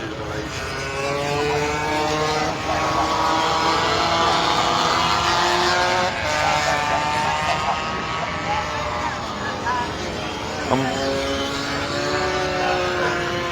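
Zip racing scooters at the Cadwell Park circuit, a pack of high-pitched two-stroke engines whining and shifting as they pass, continuous and moderately distant under steady commentary.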